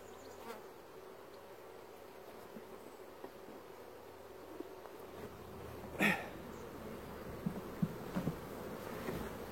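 Honey bees buzz around an opened hive during a summer honey harvest, a soft steady hum throughout with a sharper close pass of a bee near the middle and a few light knocks toward the end.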